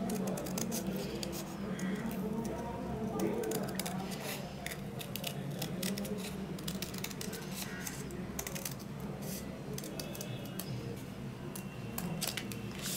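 Scissors cut through a folded paper rectangle to shape a leaf for a paper sculpture, making steady, close snipping and crisp rustling over a constant low background hum that continues throughout.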